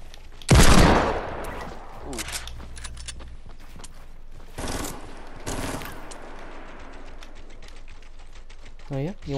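Fortnite video game gunfire crackles in short bursts amid other game effects and typing-like clicks, with people talking over the action.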